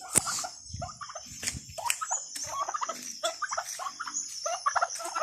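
Free-range turkey calling near a native chicken flock at feeding time, with repeated short gobbling bursts and clucks in a busy, uneven rhythm, close and fairly loud, with no speech.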